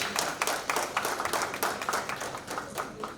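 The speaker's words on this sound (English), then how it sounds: "Another round of applause for the PSS band, please." Audience applause for a band at an inauguration event, a dense patter of many hands clapping at moderate distance, steady and fairly quiet over about three seconds.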